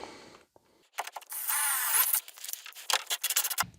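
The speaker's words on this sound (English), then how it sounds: "So I'm just gonna drill a little bit." A drill bites into an interior door frame during a Masonite Cheyenne door installation, one sustained whirring run followed by several short choppy bursts as the bit is worked in and out, close and fairly loud.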